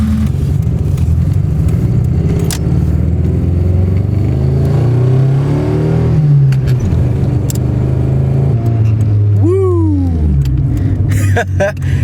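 A Mazda 323 hatchback engine revs and drones near the microphone, pitch climbing and dropping between clutchless gear changes, with a sharp rev flare near the end.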